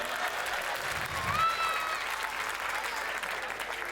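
Audience at a Hindi comic poetry gathering breaking into applause, a steady wash of clapping from a seated crowd at moderate distance, with a brief voice rising above it.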